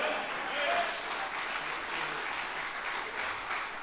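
A church congregation applauds in a dense, steady roar of many hands that stays at a constant level, with voices faintly mixed underneath.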